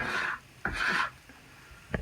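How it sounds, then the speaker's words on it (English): A plastic scraper drags across the base of a ski, peeling off excess wax in a few short, gritty rasping strokes with pauses between them, close and fairly quiet. "hold your ski and scrape the excess wax"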